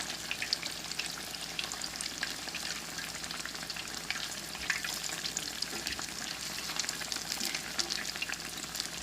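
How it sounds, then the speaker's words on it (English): Potato cakes sizzle and crackle steadily in hot oil, a dense, continuous frying hiss with occasional pops, no voices. "we're only frying these guys until they're golden brown on both sides"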